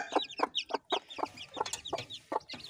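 Kadaknath and Murkatti cross-breed chickens cluck in a steady series of short bursts, about ten in quick succession, fairly close with a faint background murmur.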